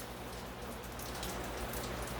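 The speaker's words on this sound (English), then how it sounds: "I've been enjoying my outside Let It Fly on Fridays, and it is pouring rain." Heavy rain pours outside, a dense, steady hiss of drops striking surfaces that stays constant and fairly close throughout, with no voices.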